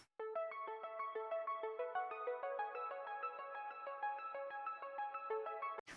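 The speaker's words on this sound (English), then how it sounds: "The layer for the right ear sounds like this." Right-ear layer of an arpeggiated synth, crisp plucked tones cycling rapidly through a repeating note pattern with a sharp attack on each note, steady and isolated for nearly six seconds.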